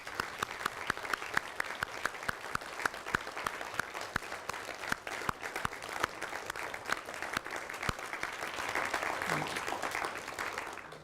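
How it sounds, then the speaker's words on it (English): An audience at a university alumni lecture applauds a group of young people: sustained, dense clapping from many hands that swells slightly louder toward the end before tailing off. "ladies and gentlemen, I invite you to applaud this fantastic group of young people"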